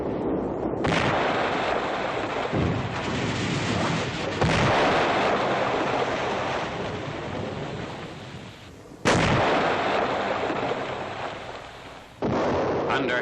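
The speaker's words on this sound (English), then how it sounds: "Under heavy enemy fire, combat engineers out on the incompleted span dash back to shore." Heavy enemy artillery fire from a WW2 newsreel pounds a river bridging site, with deep booms and blasts rolling one after another, loud and continuous, with several sharp sudden bursts standing out over the rumble.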